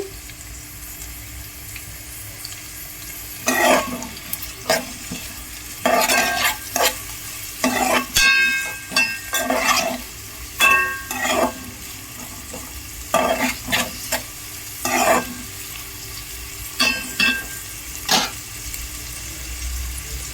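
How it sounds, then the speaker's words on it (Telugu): Chopped onions sizzle and fry in a pan for a homemade chamadumpalu curry, with repeated close scraping stirs in irregular bursts over a steady hiss. "ఆనియన్స్ వేగాలండి."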